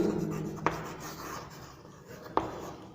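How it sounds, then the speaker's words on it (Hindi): Writing on a board during a Class 6 grammar lesson: soft, faint scratching strokes, punctuated by two sharp taps spaced well apart, with no talk over it. "जैसे मैं यहाँ पर लिखता हूँ"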